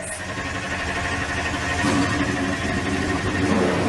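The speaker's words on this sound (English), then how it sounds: "Drivers, start your engines." Several NASCAR Nextel Cup race car engines in the NASCAR Racing 2003 game fire up at Watkins Glen, a steady loud rumbling idle of a full field running throughout with no pauses.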